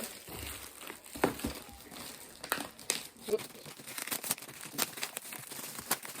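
Wrapping on a Woohoobox subscription box crinkles and rustles in close, irregular bursts with sharp crackles while it is opened, a voice faintly present underneath.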